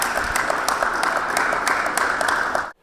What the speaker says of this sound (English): Let's have a huge round of applause for our participants before we begin.